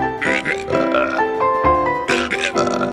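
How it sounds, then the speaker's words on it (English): A cartoon character lets out a run of loud, drawn-out burps with grunting, piggish tones, several belches in a row. "After the chow down, he burps a lot"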